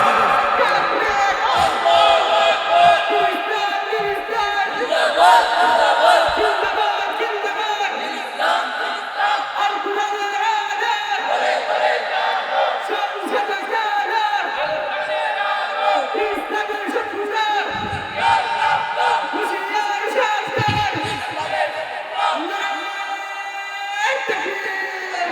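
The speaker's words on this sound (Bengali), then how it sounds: "সকলেই দাঁড়াই একসাথে দাঁড়িয়ে কুরআনের জন্য, ইসলামের জন্য আমরা কণ্ঠ ছেড়ে একটু স্লোগান দিব।" A large crowd at an Islamic sermon gathering, standing together and shouting religious slogans in loud unison, with rhythmic bursts of massed voices filling the space throughout.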